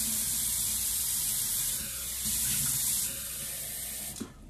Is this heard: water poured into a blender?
yes